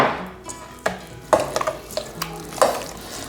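A yogurt and fresh herb sauce is mixed by hand, giving a few scattered utensil clinks and scrapes against the bowl, close and fairly quiet with no voices.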